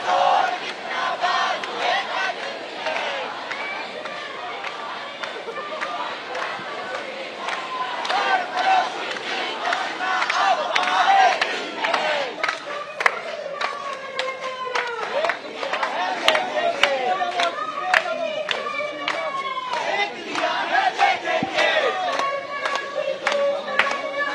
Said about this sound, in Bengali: মুখে বিচার চাই এই স্লোগান